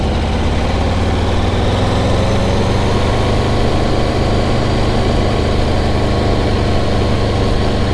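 Aprilia 1100 Factory motorcycle engine, a loud, steady, close engine drone that holds a constant rumbling tone throughout, with no voices over it.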